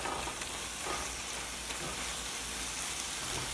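Thick carrot halwa is stirred in a pot over low heat, giving a steady soft sizzle and scraping hiss throughout, fairly faint, with no voices.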